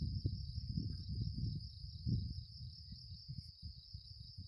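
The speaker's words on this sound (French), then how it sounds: "je vous laisse écouter les grillons" Steady high-pitched cricket chirring runs throughout as a constant drone, with a low rumbling murmur underneath.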